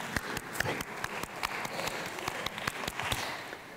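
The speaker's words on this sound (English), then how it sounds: "I want you to do 2 claps per beat like this" An audience at a music talk claps two claps per beat in a steady, brisk pattern of many hands that is not quite together, with faint voices counting along underneath.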